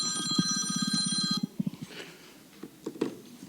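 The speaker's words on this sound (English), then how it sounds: "I thought I silenced my phone." A mobile phone rings loudly indoors in a fast trilling pattern for over a second and then cuts off. Soft talk and room noise follow.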